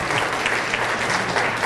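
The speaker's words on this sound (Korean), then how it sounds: "자, 그럼 이제 페이스북 박수," Audience clapping at a Korean social media lecture, a dense steady burst of many hands lasting under two seconds with no talk over it.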